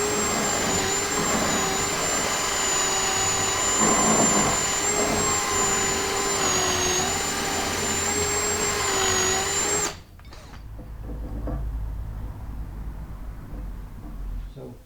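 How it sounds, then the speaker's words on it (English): A Shopsmith drilling into a Cosman workbench part with a long bit, a loud steady motor whine running continuously, then cutting off abruptly partway through, leaving quieter rumbling shop noise. "we'll take this bit, this long one, and go right in this end right here. We're going to drill that back of that hole."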